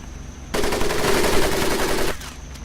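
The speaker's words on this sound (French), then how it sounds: "Qui tire la mitrailleuse" Sustained machine gun burst in the Pacific-theater WWII shooter Medal of Honor: Pacific Assault, a loud, dense stream of rapid shots lasting about a second and a half, starting abruptly and cutting off cleanly against quieter game ambience.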